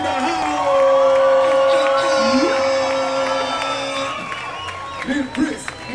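A crowd at a live show cheers, whoops and claps for the rapper, a loud rising roar with a sustained shout over it, while an emcee's voice is heard among the noise.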